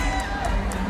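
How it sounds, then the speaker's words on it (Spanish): Crowd at a huapango dance contest in San Felipe Orizatlán cheers and claps in a steady, dense roar with bright whoops rising through it. No one is speaking. "Despedimos a este bloque con esos aplausos y esas porras"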